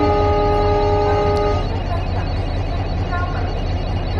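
A WDP-4 locomotive toy train sounds its second horn, a steady tonal blast with stacked harmonics that holds for about a second and a half and then stops, leaving the motor's low rumble and the track noise running.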